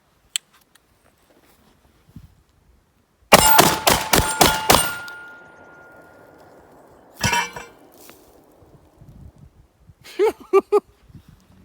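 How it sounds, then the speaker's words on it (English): Shotgun shots from a defensive shotgun ringing off a steel silhouette target at 10 yards, a rapid burst of sharp metallic clangs, followed after a pause by a couple of further isolated clanks and knocks. "that last display showed 6 quick shots into that steel silhouette at 10 yards"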